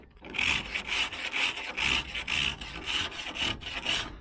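Rust is sanded by hand with 80 grit sandpaper on a 1969 Chevy van, a close, rhythmic back-and-forth scraping of roughly eight even strokes with no talking.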